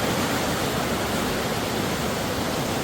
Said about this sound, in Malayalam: ഈ വെള്ളത്തിൻ്റെ നല്ല ശബ്ദം ഇങ്ങനെ കേൾക്കാൻ, വെള്ളം ഇങ്ങനെ ഒഴുകുന്നത് കണ്ടോ.